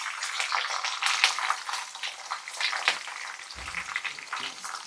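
Garlic and green chillies sizzle in hot oil for lemon rice, a dense, steady crackling fry with small pops and a brief stirring scrape, close and continuous with no one talking.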